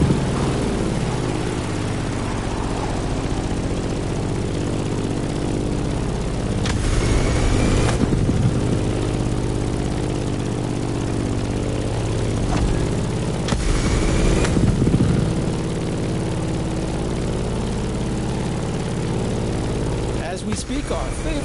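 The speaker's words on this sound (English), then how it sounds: "In the cockpit of a stunning Grumman F8F Bearcat, or simply the Bear." A Grumman F8F Bearcat propeller fighter drones steadily in flight in The Crew Motorfest, a continuous low engine hum with two brief louder swells, heard under ongoing narration.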